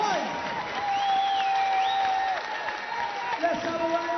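Crowd applause and scattered cheering fill a boxing arena after a heavyweight bout, steady and moderately loud, with whistles and a voice talking over it.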